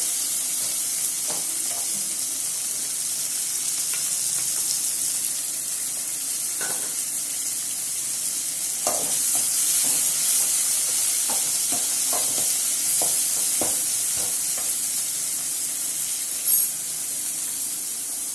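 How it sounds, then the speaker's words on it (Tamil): Chopped tomatoes sautéing in a pan for a Tamil vendakkai poriyal, with a steady close sizzle and occasional scrapes and taps of a spatula as they are stirred, no voices. "தக்காளியை வந்து என்ன பண்ணுறோன்னா இது மாதிரி நல்லா வதக்கிக்கோங்க"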